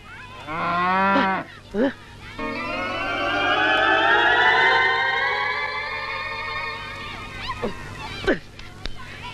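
A cow tethered along a road gives a loud, long drawn-out moo close by, preceded by shorter vocal bursts, with people's voices heard around it.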